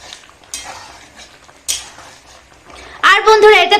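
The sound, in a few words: stirring jackfruit curry in a pan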